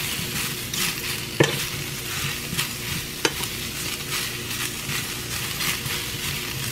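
Mushrooms fry in hot oil in a pan, giving a steady sizzle broken by the scrape and clink of stirring utensil strokes, a couple of them sharp knocks, with no talk.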